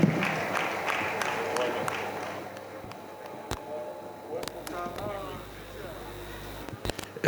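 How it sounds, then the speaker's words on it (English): Applause and crowd noise from an audience at an NDDC youth and women's conference, a dense patter of clapping for the first two seconds that thins into scattered claps and murmuring voices. "A resounding applause for the Senate Committee Chairman on NDDC"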